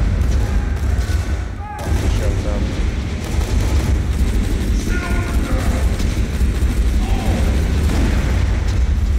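A barrel blows up in the video game Borderlands amid gunfire, with one heavy boom about two seconds in and busy crackling bursts around it as voices talk over the action.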